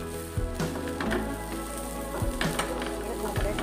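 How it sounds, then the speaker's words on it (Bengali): A pizza paratha fries on a hot tawa with a steady, close sizzle. A low hum sits beneath it, and a few sharper scrapes or presses cut in now and then. "আমি এটা ভেজে নিয়ে ঘিয়ে ভাজবো পুরো"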